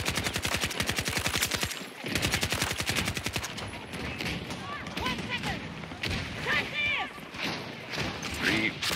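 A 12mm auto shotgun in Battlefield 2042 fires rapid-fire bursts of sharp, evenly spaced blasts, loud and close, broken by a short pause and followed by scattered shots, with people talking over the action.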